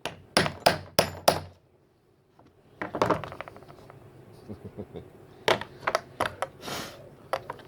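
A car part on a Toyota Starlet is knocked into place with a socket, producing loud, close metallic taps, first four spaced blows, then a quick cluster and several more sharp knocks.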